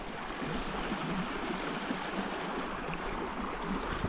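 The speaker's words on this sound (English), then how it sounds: "Look at the river." A river swollen after heavy rain rushes steadily, a continuous broad wash of flowing water, even and fairly faint, with no voices.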